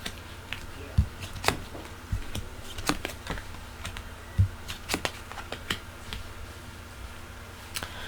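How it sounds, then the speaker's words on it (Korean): Tarot cards being spread out on a table for a weekly horoscope reading: a series of soft, sharp card slaps and flicks at irregular intervals, close and fairly quiet, with no talking. "자, 타로 카드 펼쳐보도록 할게요"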